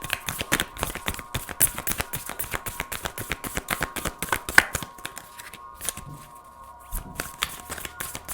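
A starseed oracle deck is shuffled in a rapid, steady riffle of papery flicks and slaps, close and continuous, easing into softer handling as cards are drawn near the end.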